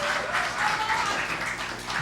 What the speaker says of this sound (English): You want to clap hands? You can clap hands.